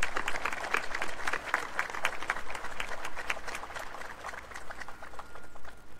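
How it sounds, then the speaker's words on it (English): Applause from the audience at a Duke University Veterans Day commemoration: steady, moderately loud clapping from a crowd that continues throughout without talk. "Please join me in a round of applause."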